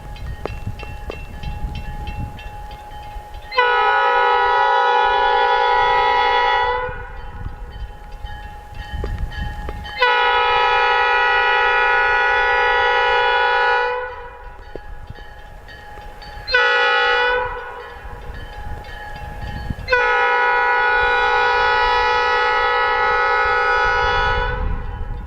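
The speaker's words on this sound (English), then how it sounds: "right now it looks like we have one lone engine clearing the way for future trains after a big snowstorm" A lone locomotive clearing snow and ice from railroad crossings after a snowstorm in Michigan's Upper Peninsula sounds its horn in four long blasts with one short one, loud and sustained over a low engine rumble.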